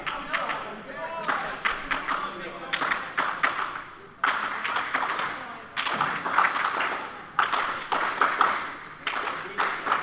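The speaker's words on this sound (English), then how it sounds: "I think it was a clap for both of them." Wrestling crowd at an indoor match between Derek Hill and Benny Slater clapping in bursts, with rhythmic claps and crowd noise rising and falling under commentators talking throughout.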